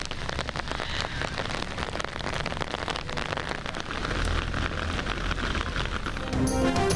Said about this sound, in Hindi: पानी से भरे बादल बरसे तो गर्मी का जोर टूट गया।